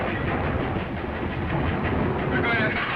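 A moving train from a 1940 serial rumbles as a constant, loud, dense roar with faint rhythmic clatter, steady throughout with no clear speech.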